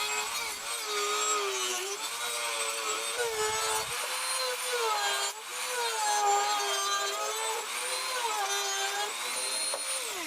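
A power tool cuts through the plastic fairing of a 2000 Yamaha R1 motorcycle along taped lines, giving a steady, close, high whining drone that runs continuously with slight pitch wobbles.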